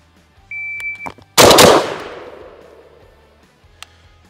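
A Benelli M4 tactical shotgun fires one Winchester Super X high-power birdshot round, a loud, sharp blast that rings out and decays over about a second, preceded by a steady electronic timer beep.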